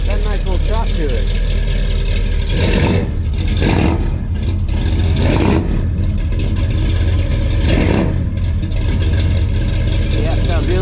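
A 1984 Dodge D150 pickup fitted with true duals and Flowmaster 44 mufflers revs hard several times, each burst swelling and falling back to a loud, choppy idle close by.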